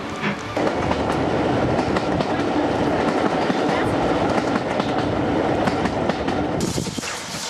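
A steam train in Scotland rumbles steadily along the rails, with continuous clattering of wheels and a loud, dense mechanical roar throughout.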